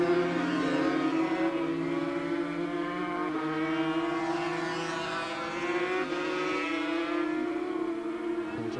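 Aprilia 250cc Grand Prix racing motorcycles on a Thruxton circuit, a steady high-pitched two-stroke engine drone held loud and continuous throughout, with slight pitch shifts as throttle is wound on.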